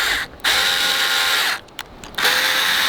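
A power drill drives small screws into a wooden chicken coop, whirring loudly in two long runs separated by brief pauses and a short burst, with no talking.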